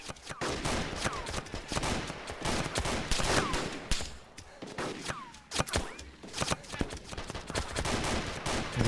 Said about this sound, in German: Da sind Schüsse.